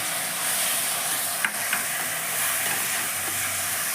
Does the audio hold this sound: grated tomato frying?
yes